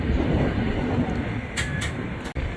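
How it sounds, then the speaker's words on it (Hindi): The Kota Hazrat Nizamuddin Jan Shatabdi Express pulls into Bharatpur Junction, a five-platform railway station, with a loud, steady rumble of rolling wheels and cars that runs the whole brief stretch without voices. "वो जो आप सामने ट्रेन आती हुई देख रहे हैं वो है कोटा जन शताब्दी।"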